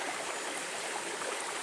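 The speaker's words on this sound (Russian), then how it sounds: "Вот такой маленький ручеек идет" A small mountain stream trickles out from under a large stone at its source, a soft, steady babble and gurgle of water heard close up with no voices.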